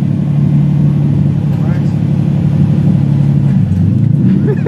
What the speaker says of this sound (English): Do a burnout.